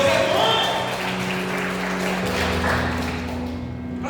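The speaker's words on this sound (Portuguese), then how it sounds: "Dê uma aplauso ao Senhor" A church congregation applauding during a Sunday sermon, a broad wash of clapping with a sustained tone and some voices mixed in, fairly loud and continuous before easing slightly toward the end.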